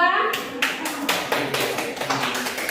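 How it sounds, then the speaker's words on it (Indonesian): Classroom group claps for a presentation team, a quick ragged burst of many hands starting sharply and continuing close and lively, with faint voices underneath. "kita berikan aplaus untuk kelompok 2"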